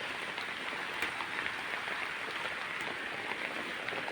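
Steady rain patters on a surface, a soft, even hiss with scattered drops, fairly faint and with no voices.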